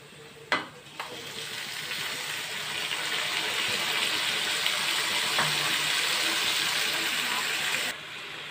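Tomato pieces dropped into a pan of frying onion and green chili, a brief clatter followed by a loud, steady sizzle that builds and holds, then cuts off near the end.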